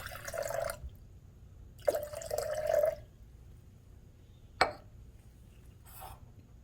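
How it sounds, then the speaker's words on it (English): Hot water is poured from a flask bath into a waste beaker in a lab, heard as two soft splashing pours with a sharp glassy clink between them, faint and close, with no talk. "pour off most of the hot water into your waste beaker"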